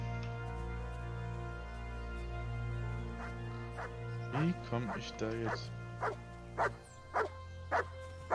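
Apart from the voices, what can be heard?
dog barking in the video game Kingdom Come Deliverance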